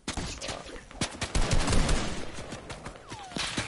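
Video game gunfire in Call of Duty, a string of sharp shots and bursts at moderate level over game ambience, with no talking.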